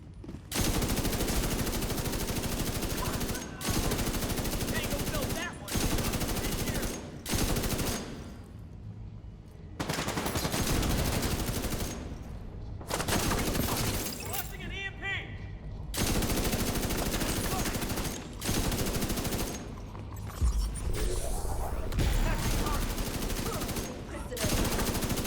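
Nearly continuous rapid automatic gunfire in The Division 2 from a Bullet King build, loud and dense in long sustained bursts with brief pauses between them.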